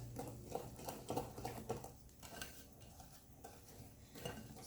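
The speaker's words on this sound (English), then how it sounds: "Just mix it in. I just like to use a wooden spoon for this." Zucchini bread batter being mixed in a bowl with a wooden spoon, soft close thick knocks and scrapes in an irregular rhythm, fairly quiet.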